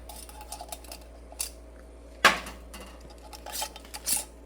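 Metal canning lids and bands being screwed onto glass jars finger tight while canning salmon: light clinks and scraping metal taps scattered through the clip, with one sharper clank near the middle, close and fairly quiet, with no talk.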